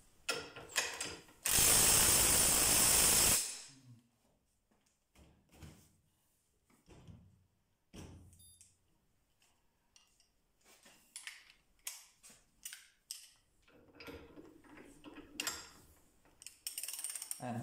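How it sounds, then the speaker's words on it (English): A Parkside impact driver from Lidl, rated 180 Nm, hammers on a bolt in one loud sustained burst of about two seconds, followed by clicks, handling noises and intermittent talk. "So I will torque this bolt for 5 seconds with the gun."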